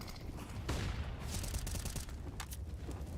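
AK rifle and AWP sniper fire in a Counter-Strike match: dense volleys of rapid gunshots and sharp cracks, fairly quiet and somewhat distant, with no voices.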